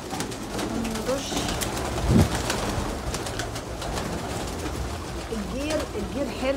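Pigeons coo softly in a lime-dusted pigeon room, low murmuring calls under someone speaking over a steady background hum.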